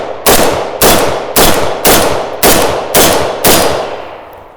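Seven loud, sharp gunshots from a Galil rifle ring out at a steady, evenly spaced pace, each blast trailing off in a short echoing decay before the next.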